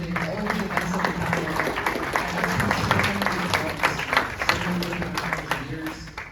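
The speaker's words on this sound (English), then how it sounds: "let's go on and give another round of applause for ASE Leadership" An audience at an engineering talk claps for ASE Leadership, a steady round of applause carried under loud crowd noise and cheering.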